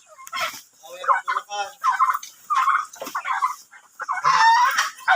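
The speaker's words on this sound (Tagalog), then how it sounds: "Yan, katambo kong manok." Chickens kept in a Filipino poultry yard cluck and cackle in separate bursts close by, ending with a louder, more excited squawk.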